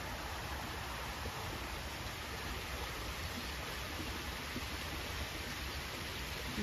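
Water from a dam spills steadily along a channel toward a canal after recent rain, a constant broadband rush with no talk.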